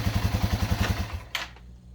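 A Yamaha TW200 single-cylinder motorcycle idles close by with a steady, quick thumping beat, then a sharp clack and the engine note fades away.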